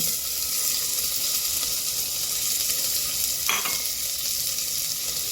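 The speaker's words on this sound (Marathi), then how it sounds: "थोडं हिंगही मी घालते तो यामध्ये मी तोंडली घालते" Ivy gourd (tondli) hits hot oil seasoned with cumin and asafoetida, giving a loud, continuous hissing sizzle that holds steady throughout, with one brief brighter burst midway.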